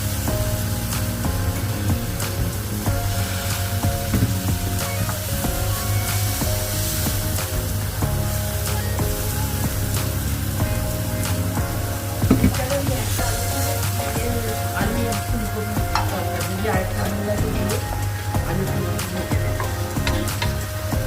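Tomato sizzles and fries in a hot pan of oil while a fish head and potato curry is cooked, giving a loud, continuous crackling hiss with occasional utensil clatter over about twenty seconds.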